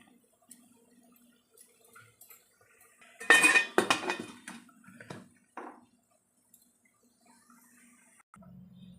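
A metal lid set onto a cooking pot while steaming puttu in a home kitchen: a cluster of clanks and rattles in the middle, then a few softer knocks before quiet returns, with a low hum near the end.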